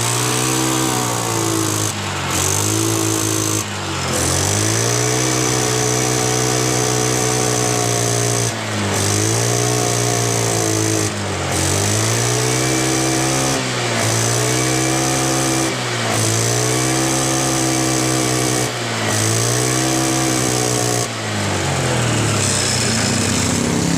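Honda Beat carburetor scooter engine revved repeatedly after a fix for bogging and stalling, loud and close, the pitch climbing and falling in a steady series of throttle blips over a constant idle, with no talking.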